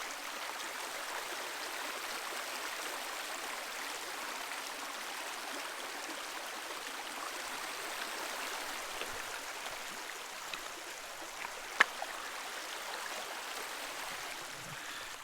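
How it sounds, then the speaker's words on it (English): Springs spill down a cliff wall along the Upper Iowa River, giving a steady soft trickle and splash of running water, close and continuous, with a few brief drips standing out. "There's a few springs in a row here along this cliff wall."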